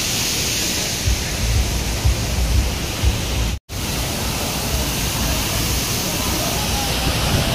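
Waterfall spray and rushing water at Kanthalloor waterfall in Kerala, a loud, steady broadband roar close by that fills the whole clip, broken only by one brief dropout near the middle.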